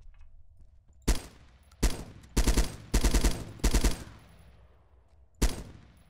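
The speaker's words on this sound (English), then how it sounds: "Let's fire the DMR version." Mark 17 DMR rifle fired in ArmA 3: six loud, close shots with bursts of one to three rounds, spaced irregularly across the clip, each with a short trailing echo and no talking.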